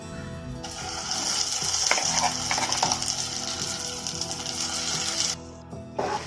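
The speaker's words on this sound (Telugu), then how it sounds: "మనం మిక్సీ పట్టి పెట్టుకున్న పచ్చడి ఇప్పుడు పోపులో వేసేసుకోవాలి." Ground Malabar spinach chutney hits hot tempering oil in a pan, bursting into a loud, steady hissing sizzle that runs close for several seconds before cutting off abruptly.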